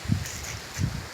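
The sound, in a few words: strong stormy wind blowing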